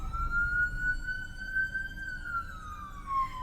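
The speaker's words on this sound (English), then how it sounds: "here comes an ambulance" Ambulance siren wailing in a single long rising and falling tone outside a grocery store during a power outage, fairly distant and steady, with low traffic rumble beneath.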